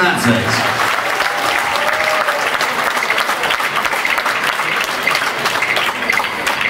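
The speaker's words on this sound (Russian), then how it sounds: "аплодисменты" A crowd applauds at a beauty pageant show, dense steady clapping that fills the whole stretch at a strong even level, with faint voices and a brief vocal tone mixed in early on.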